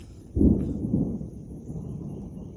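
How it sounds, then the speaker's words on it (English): Low distant thunder from a storm approaching on the horizon rolls in with a soft onset, swelling then rumbling steadily for a couple of seconds, with no speech over it. "y'all can hear him coming. The storm is off of the distance, off in the horizon."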